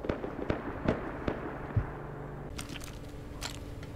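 Gunfire in a modded Rust survival game: a handful of sharp, spaced cracking shots ring out in the first seconds, then scattered fainter pops over a low background hum.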